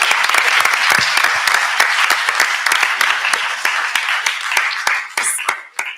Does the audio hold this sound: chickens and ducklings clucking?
no